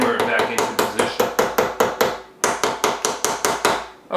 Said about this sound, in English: hammer it back into position.